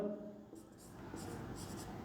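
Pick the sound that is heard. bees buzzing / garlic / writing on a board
writing on a board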